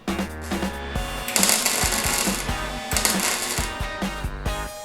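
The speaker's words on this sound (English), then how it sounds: "I cut bits and pieces here and there to weld this properly and tack weld it in place" Tack welding pieces of exhaust pipe on a Mazda Miata with a swapped 5.0 V8: close, loud buzzing crackle in rhythmic bursts with short pauses between tacks, no voices.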